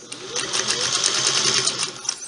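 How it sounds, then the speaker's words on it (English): An old Singer sewing machine runs steadily, close and loud, with a rapid rhythmic clatter of the needle mechanism and a continuous whirring drive. "And a sewing machine is just like any other tool."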